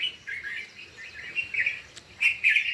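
Birds chirping in the morning in short, bright bursts, a few calls overlapping, fairly close, against a quiet village background with no talking.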